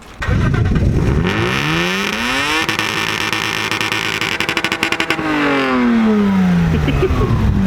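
A 2001 Lexus IS200 SE engine cranks and catches, then revs up and down in several rising and falling sweeps, loud and close, settling back toward idle.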